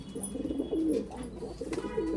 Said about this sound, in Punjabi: ਸਾਰੇ ਕਬੂਤਰ ਗੁੜਕਣ ਦੇ ਮਸਤੇ ਪਏ